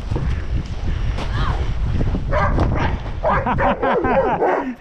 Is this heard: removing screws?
no